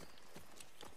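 Horse hooves clip-clop in The Last of Us Part II, a steady run of hoof strikes close up under a continuous game background.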